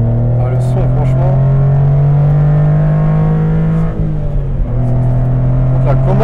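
A Honda Beat's small engine drones steadily inside the car while driving, pitch rising then dropping at a gear change before climbing again, loud and continuous with people talking over it.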